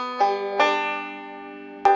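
Banjo picks a short theme phrase with thumb and middle-finger strikes: two plucked notes ring out and decay, then a sharp final pluck closes it, played alone and fairly quiet.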